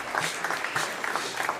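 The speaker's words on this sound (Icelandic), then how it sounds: "klapp fyrir því" Short burst of scattered clapping from an audience at Landsvirkjun's autumn energy meeting, moderate in volume with individual claps audible.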